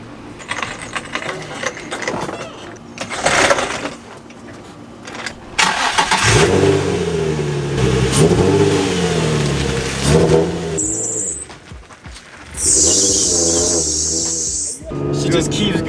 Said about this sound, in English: take it for just a little drive around the parking lot and just see how the new angle kit feels